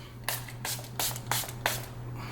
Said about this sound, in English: Now I'm gonna go in with my rose water spray to give it more of that hydrating dewy look.